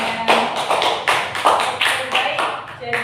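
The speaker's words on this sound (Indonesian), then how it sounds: "Tepuk tangan untuk Mbak Amel." Applause for a participant during a group game in a guidance classroom session: a burst of hand claps from a small group, loud and close, with voices mixed in.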